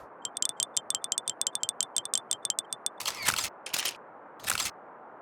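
Rapid camera shutter clicks fire in quick bursts as tourists step off a bus to photograph a building, a dense run of crisp sharp clicks followed by a few louder, longer mechanical scraping sounds.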